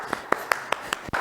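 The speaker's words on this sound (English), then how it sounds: "give yourselves a round of applause" A beginner class gives a short round of applause: about five or six separate, fairly faint claps, spaced evenly and close together, with no talk.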